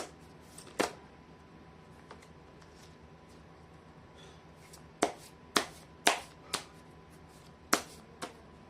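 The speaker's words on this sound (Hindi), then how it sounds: "मैं कर लेती हूँ कार्ड की शफलिंग" Tarot cards being shuffled by hand, heard as sharp, irregular riffling snaps and taps, sparse at first and then more frequent, fairly close, with no talk.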